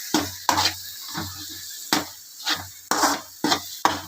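Mutton kulambu masala sautéing in plenty of oil in a village-style pot, stirred with repeated scraping strokes, roughly eight sharp rhythmic scrapes over a soft sizzle, loud and close with no talking.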